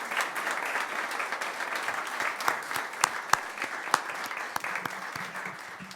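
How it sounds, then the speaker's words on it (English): An audience applauds a lecture speaker after a talk on lost buildings in Venice, Florida: sustained, fairly loud clapping from a room of listeners, with individual sharp claps standing out and slowly easing toward the end. "let's give Gary a final round of applause"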